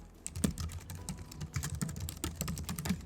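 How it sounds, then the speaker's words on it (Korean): Steady typing on a mechanical keyboard with brown switches, close and moderately loud, with irregular clicky keystrokes and no talking. "이 갈축 키보드 같은 경우에는 적축에 비교하면 아무래도 소리가 좀 더 나는 편이긴 하지만"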